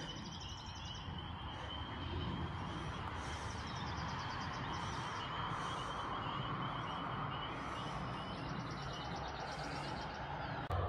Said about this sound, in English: And you can really hear the frogs.